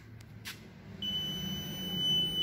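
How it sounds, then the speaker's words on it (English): Reversing parking sensor on a Ford Falcon wagon, a thin steady high electronic tone starting partway through over low engine idle, faint and continuous. "There's the beep."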